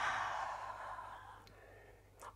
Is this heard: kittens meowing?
no